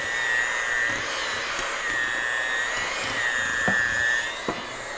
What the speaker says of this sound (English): a hand mixer is a little rough on the hand